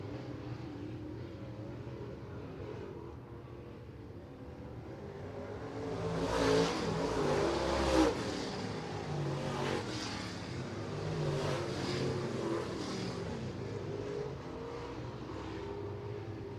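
Late model race cars roar around the oval at Merritt Speedway during a heat race, a distant blended engine drone that swells as the pack passes out of turn four, then settles into steady rumbling.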